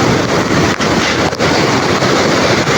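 Heavy sea waves and surf pound during a typhoon, a continuous loud roar of churning water mixed with strong wind buffeting the microphone, with a few brief dips in intensity.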